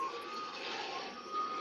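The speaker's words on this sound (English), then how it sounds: "I'm trying to get away from this beeping noise." A vehicle's reversing alarm beeps steadily from a short distance at a live UFC after-show, sounding as one continuous tone over a broad background roar with no speech.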